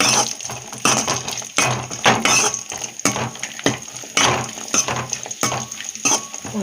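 Fried raisins and cashews go into a sago vermicelli payasam, with sizzling ghee, spoon scrapes and stirring against the pan in uneven bursts, close and moderately loud.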